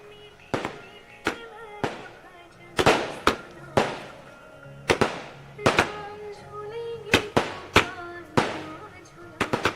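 Fireworks and firecrackers go off at a Ram Mandir consecration celebration, a steady run of sharp bangs and pops at irregular intervals, each trailing a brief crackle, with faint voices underneath.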